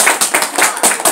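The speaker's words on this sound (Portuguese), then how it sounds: "Palmas pra Pom Pom." Children at a school clap in quick rhythmic bursts, about five loud, close, even claps in just over a second.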